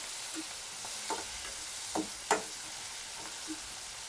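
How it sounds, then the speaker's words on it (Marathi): Tomato fries in a pan for matar paneer masala, a continuous soft sizzle broken by several sharp spatula scrapes and taps, near and without speech. "आता यातच आपल्याला टोमॅटो भाजून घ्यायचा आहे"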